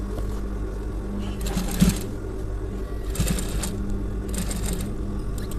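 A sewing machine stitches the edge of a shirt collar in short bursts, running briefly around the second mark, again near three seconds and once more near four and a half, with quiet mechanical hum and handling between runs.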